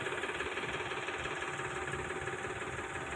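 A tractor engine idles at a riverside fair, a steady low rumbling hum throughout, moderately distant and fairly faint with no speech over it.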